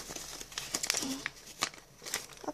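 A small package sealed with masking tape being torn open by hand, close crinkly crackling of paper and tape in short quick rips, with faint speech.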